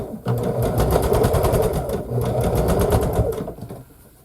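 A sewing machine stitching larger quilt pieces together with a back stitch, a close rapid needle chatter in two running bursts separated by a brief pause, then slowing to a stop.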